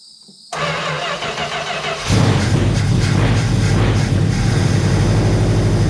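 A long-neglected Plymouth Scamp, unstarted in 16 years, cranks, then its engine catches and roars into a loud, steady run, heard up close.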